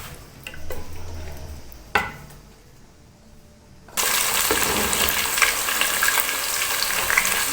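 Fish frying in a pan of hot oil for fish fried rice, quiet clinks and a sharp tap at first, then a sudden loud, dense sizzle with popping spatters that holds steady up close.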